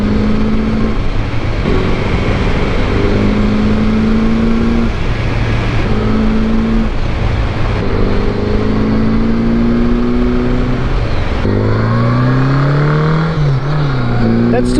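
A 1981 Honda GL1100 motorcycle engine runs continuously with rising and falling pitch as it accelerates and shifts at around 25 mph, loud and close throughout.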